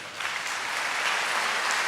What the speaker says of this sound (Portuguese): Gente, que maravilha, palmas agora